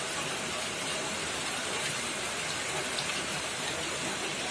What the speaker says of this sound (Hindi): और बारिश हो रही है। देखिए मैं बारिश दिखाती हूँ।